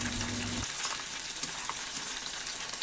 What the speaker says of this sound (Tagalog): Maririnig po natin yung pagka crispy ng ating chicken.